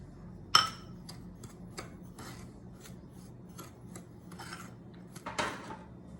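Sugar, brown sugar and tapioca mixed together in a bowl: gritty rasping and rubbing strokes repeat steadily, opened by a sharp clink of a utensil against the bowl and closed by another scrape.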